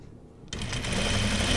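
A sewing machine stitching a tunic fabric starts up suddenly and runs steadily at close range, a continuous loud mechanical whir with no voices.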